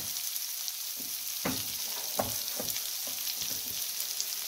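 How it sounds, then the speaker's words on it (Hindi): Dry spices sizzle steadily in a pan over low heat while cooking an amla (gooseberry) chutney, with a constant frying hiss and a few soft stirring scrapes. "अब इसमें हम थोड़े सूखे मसाले डालते हैं"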